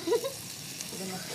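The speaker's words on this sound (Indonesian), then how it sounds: "bakar ikan pakai minyak atasnya" A milkfish grilling with oil poured on top gives off a short, soft sizzle with a brief crackle near the start.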